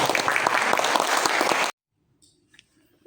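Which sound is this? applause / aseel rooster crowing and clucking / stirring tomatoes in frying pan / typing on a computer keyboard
applause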